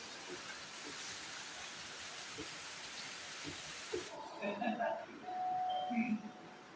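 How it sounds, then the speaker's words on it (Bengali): Morning rain falls steadily after a night of rain, a soft hiss of drops on surfaces that fills the first part and then thins out, leaving faint scattered sounds. "গত রাত্রে থেকে সে বৃষ্টি শুরু হয়েছে বৃষ্টি হয়ে যাচ্ছে"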